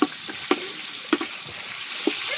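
Thyme, curry leaf, ginger and garlic sizzle in hot oil over an open fire, giving a steady hiss with a few sharp crackles and pops, close by, with no talking.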